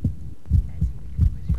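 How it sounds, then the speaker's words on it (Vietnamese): Heartbeat in a science film about the circulatory system, a man's pulse settling back toward normal after exertion: deep, low thumps in paired lub-dub beats, close and steady, with no talk. "phải mất một lúc nhịp tim của anh mới trở lại mức bình thường"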